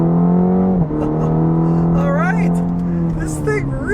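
A 2020 Cadillac CT4-V with a 2.7 liter turbo four-cylinder engine accelerating hard on a back road, the engine note climbing through gears with brief drops at shifts, loud and close.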